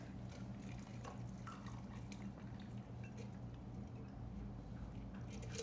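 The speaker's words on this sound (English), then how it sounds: "Now we use the strainer." A cucumber cocktail is poured through a strainer, giving a quiet, continuous trickle of liquid with soft drips, faint and close.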